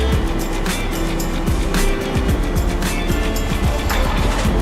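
A manual-transmission car is backed up in reverse, its engine running steadily and close by, with repeated short mechanical knocks and rising whines over constant road-vehicle noise.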